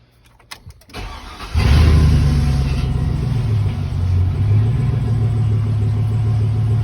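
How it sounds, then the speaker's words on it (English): A 1999–2002 Chevy Silverado 1500 pickup engine cranks briefly, catches, and settles into a loud, steady, close-up idle rumble that continues without talk. "So now you just have to start the truck and turn the wheel around one rotation to do it on the bottom side."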